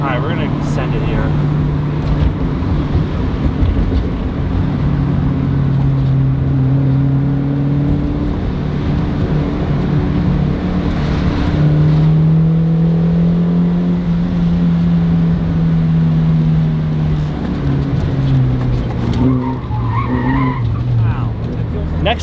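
A Honda Civic EG is driven off hard, its tires skidding and squealing over a loud, strained engine rising in pitch for a long stretch, with voices talking in the car.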